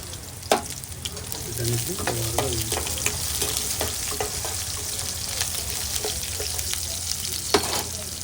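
Mustard seeds, chana dal, urad dal, cumin and finely chopped onions frying in hot oil for a bottle gourd toor dal curry, a steady close sizzle with scattered spatula scrapes and small pops, no talking.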